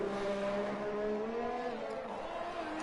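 A Ferrari race car in a Singapore sim racing league event drones with a steady engine note whose harmonics rise and shift over a few seconds, loud and continuous, without talk.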